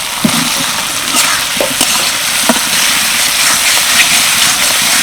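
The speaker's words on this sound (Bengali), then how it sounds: "আলুগুলো মশলার সাথে প্রায় এক থেকে দেড় মিনিট ভালো করে কষিয়ে নিলাম" Fried potatoes sauté in spice masala for a vegetarian paneer dish, making a loud, even hiss of oil with occasional soft scrapes of stirring.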